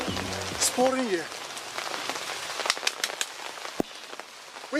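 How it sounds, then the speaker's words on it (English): Heavy rain pours down steadily on surfaces, a dense continuous wash of patter close by, with a brief voice rising near the start. "It's pouring here."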